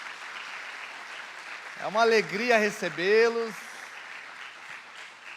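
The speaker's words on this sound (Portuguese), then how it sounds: "Uma salva de palmas a esses irmãos" A church congregation gives a round of applause to first-time visitors, a steady broad clapping wash throughout while someone speaks a welcome over it in the middle.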